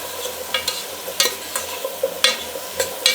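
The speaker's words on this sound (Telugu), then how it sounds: "పసుపు వేసుకున్న తర్వాత బాగా కలబెట్టుకొని" Drumstick sambar being stirred in a pot after turmeric goes in, a spoon scraping and sloshing in irregular strokes with a faint bubbling sizzle underneath, close and moderately quiet, no voices.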